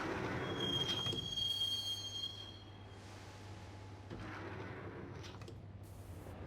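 Subway train ride in the Max Payne video game: a steady rumble of the carriage with a long high wheel squeal early on, then rattling and clatter as the train rolls on, with no talk.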